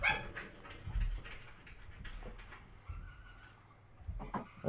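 A dog barks and whimpers in a TV clip, several short yelps and whines over a busy background of music and noise, moderately loud with no talk.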